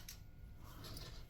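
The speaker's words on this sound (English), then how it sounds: "Scissors." Scissors snipping during an unboxing of an O-Nail AI nail lamp, soft repeated cuts close by over a steady faint background hiss.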